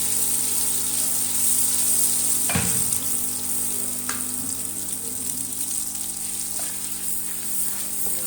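Egg halwa batter poured into hot ghee sizzles and fries continuously, a steady close crackle with a few sharp clinks of a stirring spoon against the pan.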